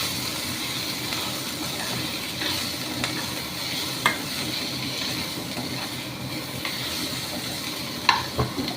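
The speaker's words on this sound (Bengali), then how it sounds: "এইবার একটু গ্যাসটা কমিয়ে দেবো, মাঝে মাঝে নেড়ে দিচ্ছি।" Chicken and garlic fry over lowered heat in a pan for chicken hakka, a constant loud sizzle broken now and then by brief clinks and scrapes of stirring. No one speaks.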